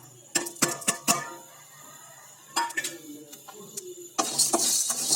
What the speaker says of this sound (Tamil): நம்ம கடாயில் வெறும் வானலிலேயே நம்ம வறுத்துடணும்.